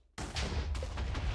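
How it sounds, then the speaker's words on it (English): Explosions from a Minecraft mod fill the clip with a sudden loud burst, then a continuous crackling, rumbling roar. A second blast lands partway through, and no one speaks. "Watch this shit explode everywhere."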